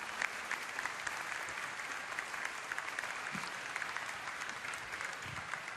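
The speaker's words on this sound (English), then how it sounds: "let's give them a round of applause" Sustained applause from a crowd at BlizzCon 2010, a dense even patter of clapping that holds steady throughout without voices.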